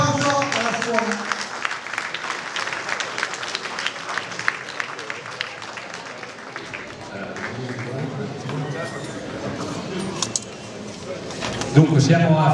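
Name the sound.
audience applause for the hotel school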